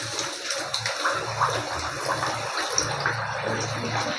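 Sugar-coated anarkali sweets frying in medium-hot oil give a steady, continuous bubbling fizz, close and fairly loud, with no talk over it.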